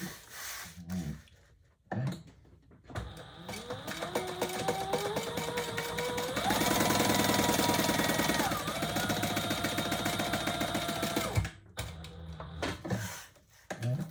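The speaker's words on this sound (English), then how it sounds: "we're going to stitch across this top, creating that slip pocket" A sewing machine stitches across the top of a fabric wallet to form a slip pocket, its motor whirring in long continuous runs that speed up and hold a steady, loud hum before stopping.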